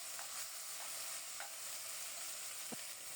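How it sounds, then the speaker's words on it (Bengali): Whole cumin seeds and bay leaves sizzle in hot oil as a tempering, giving a steady, faint frying hiss with a few small pops and a clink of stirring. "ওই তেলেই ফোড়নে দিয়েছি গোটা জিরা, তেজপাতা"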